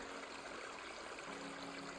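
A creek swollen after lots of rain on Arkansas's Eagle Rock Loop, its water rushing as a steady, soft broadband wash with no voices.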